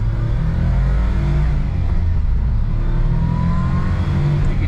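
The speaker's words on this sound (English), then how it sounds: "Now you can experience the little bit of turbo lag it has." A turbocharged three-cylinder car accelerates with slight turbo lag, its engine drone loud and steady from inside the cabin, rising gradually without any speech.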